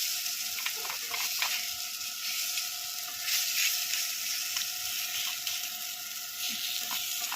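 Fritters frying on a tawa griddle make a close, steady hiss and sizzle of oil, with occasional small crackles and scraping clicks throughout and no talking.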